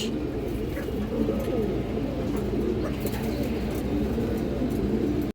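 Several large China Khaki female pigeons coo steadily in low, overlapping rolling calls, close and continuous, with a few faint chirps from other birds behind them.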